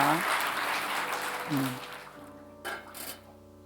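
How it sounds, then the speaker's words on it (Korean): Applause from a church congregation for the elders after communion fills the opening seconds, a dense patter that thins out and fades, with a voice cutting in briefly near the end. "우리 장로님들 수고하시다가 박수 한번 보낼까요?"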